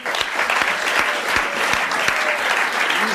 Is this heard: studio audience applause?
yes